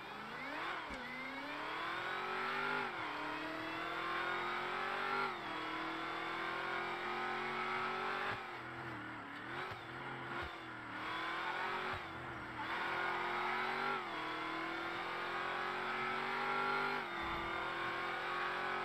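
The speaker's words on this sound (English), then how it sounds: "I'm actually gonna turn the sound of that engine down because, my lord, for me, that is fucking insanely loud." A very loud car engine in a roleplay driving game revs hard and climbs through the gears, each rising whine dropping at a shift before surging again, continuous and close with no talk.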